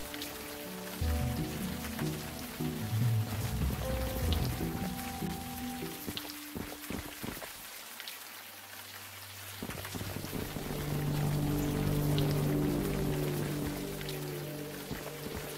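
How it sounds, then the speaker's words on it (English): Steady rain pours in a video game scene, a dense continuous hiss that briefly thins midway before returning at full strength, with low musical tones underneath and no voices. "We're not going to learn anything out here in the rain."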